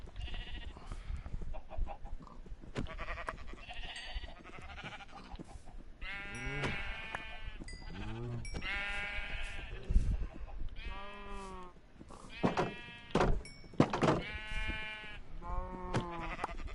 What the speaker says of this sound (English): This pen is overcrowded with too many sheep.